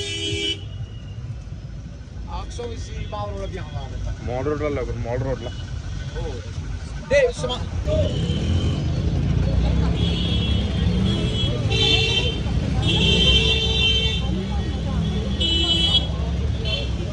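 Road traffic on Mall Road in Manali, with car and bus engines rumbling close by and several short horn toots and honks, heard under a person talking.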